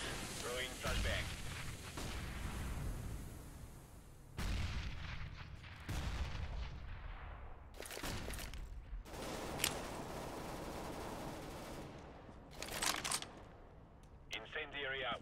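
Booming explosions and gunfire from a CS:GO match on the Cobblestone map, with several heavy blasts and sharp bursts spread across the stretch over constant game noise, while a player talks throughout.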